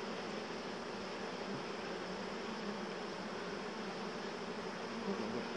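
Dense, continuous buzzing of honey bees swarming around an open beehive being fitted with super frames, a steady close drone with no pauses and no voices.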